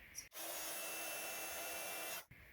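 A heat gun blows steadily for about two seconds while melting white superfine embossing powder onto black cardstock, a continuous whirring hiss that switches on and off abruptly.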